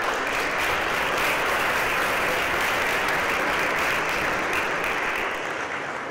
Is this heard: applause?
yes